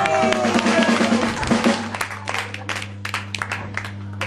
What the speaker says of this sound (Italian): Un applauso incoraggiamento Emilio